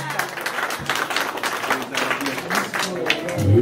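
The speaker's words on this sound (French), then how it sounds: "Applaudissez très fort." Wedding guests clap steadily in a continuous, moderately loud wash of applause at an evening reception, with voices talking over it throughout.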